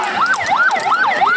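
An ambulance siren wails at a horse racing festival, in a steady rising and falling pattern, loud and close, repeating several cycles with no talking.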